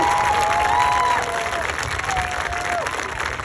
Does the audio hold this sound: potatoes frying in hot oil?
no